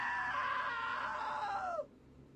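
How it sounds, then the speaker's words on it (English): A loud, sustained scream from a character in the video game What Remains of Edith Finch, a single long cry that bends downward and cuts off abruptly near the end, leaving quiet. "Now that was a great scream."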